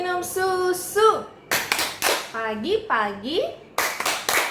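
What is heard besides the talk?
children clapping along to the Tepuk Minum Susu song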